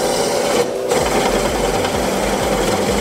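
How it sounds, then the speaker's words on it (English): Drill press boring through 8-inch steel, a steady close grinding drone with a rhythmic low chatter from the bit, continuous without a break and no talk. "these drill bits don't like drilling through 8-inch steel"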